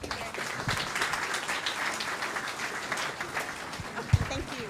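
Clapping from the audience at a county school board meeting, moderately loud and steady throughout, with faint voices mixed in and a sharp knock near the end.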